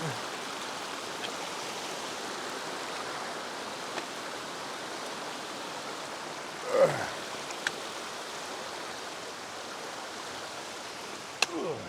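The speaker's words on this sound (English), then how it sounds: "this stream crossing, it looks a lot worse than it is. It's got a lot of water" A stream swollen with water rushes past at a trail crossing on a February hike along the Boulder River Trail, a broad, steady wash of flowing water with a few faint knocks and rustles near the hiker.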